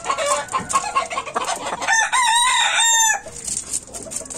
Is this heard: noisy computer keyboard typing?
no